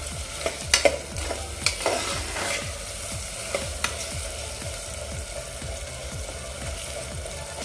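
Food sautés in a pan over a medium flame, a continuous soft sizzle broken by regular scraping stir strokes, close by and without any talking.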